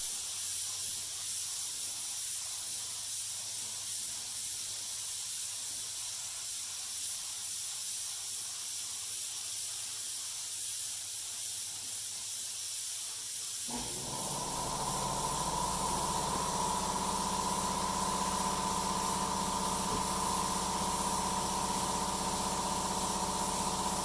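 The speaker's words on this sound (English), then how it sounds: "Give it a nice, heavy, thick coat of primer to cover up all the micro scratches that's in there from the sandpaper." A spray gun lays a heavy coat of acrylic primer thinned with lacquer thinner onto a steel bumper, with a steady airy hiss that starts partway through and then holds loud and constant.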